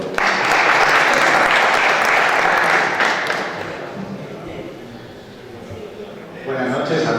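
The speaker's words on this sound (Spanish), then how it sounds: "Gracias, un aplauso para Domingo." Applause from an audience at an agricultural and livestock conference session, loud and dense for about three seconds, then thinning and fading before a voice begins speaking near the end.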